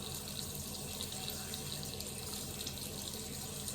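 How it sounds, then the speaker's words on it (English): A dark flannel is wrung out over a sink, and water splashes and trickles steadily and evenly the whole time. There is no speech. "Then I'm going to wring out my flannel so that the excess water is gone."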